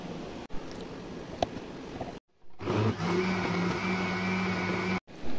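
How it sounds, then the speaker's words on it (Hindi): Faint background noise, then an electric mixer grinder starts up with a loud, steady whirring hum, grinding cooked raw mango for a few seconds before cutting off briefly. "अब हम इसको मिक्सी जार में डाल के पीस लेंगे।"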